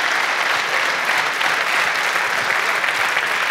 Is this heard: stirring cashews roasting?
no